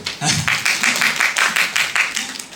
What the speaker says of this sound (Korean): 보통 박수들 쳐주시는데